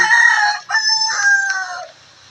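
A rooster crows a long, drawn-out call, loud and close, with a brief break partway through before the crow trails off.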